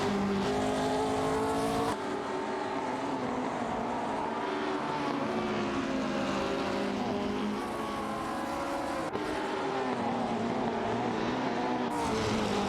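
Engines of the Techno Par 68 and Matra MS7 race cars in a video game race, heard as a continuous loud whine with rising and falling pitch, with brief shifts in tone, and no talk over it.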